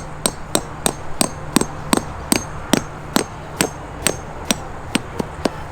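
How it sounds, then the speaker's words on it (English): A hammer drives a metal spike into artificial turf in a backyard with about fifteen crisp, evenly spaced blows in a steady rhythm, close and loud. "then you just take a hammer, drive that in"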